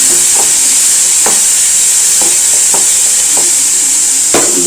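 Onion frying with rock salt in a pan before prawns go in, a loud constant hiss of sizzling oil broken by several sharp stirring knocks and scrapes, close by, no voices.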